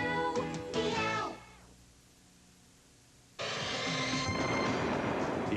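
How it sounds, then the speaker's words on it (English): Cats meow in a sung jingle for Meow Mix brand cat food, loud rhythmic melodic meows over music, pausing briefly before resuming. "Cats all over are singing the praises of Meow Mix brand cat food."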